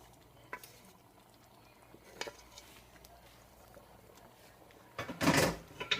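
Macaroni mixture is stirred into cheese sauce for a macaroni and cheeseburger bake, giving a few sparse scrapes and taps of a utensil against the pot, then a louder, rougher burst of stirring near the end, with no talk.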